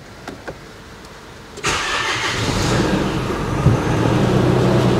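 A Nissan Navara pickup bought from a salvage auction cranks and fires after a few quiet clicks, then settles into a steady, close idle that grows slightly fuller.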